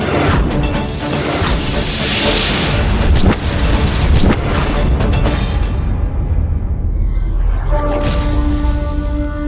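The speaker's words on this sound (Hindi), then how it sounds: "अब किसी से प्रभावित हुए बिना अपना विस्फोट करूंगी मैं।" A loud, sustained explosive roar with booming rumbles and crackling debris that gradually fades into a lingering low drone.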